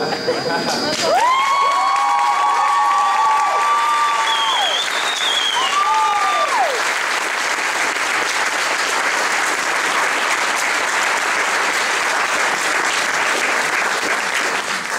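A large crowd applauds and cheers continuously, with whoops and a few high whistles rising over the dense clapping early on.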